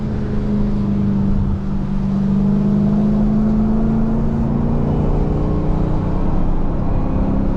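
An SRT Hellcat Durango's engine held at high revs while sliding sideways, a loud sustained droning roar with a slowly rising and falling pitch, heard close from inside the cabin with no voices.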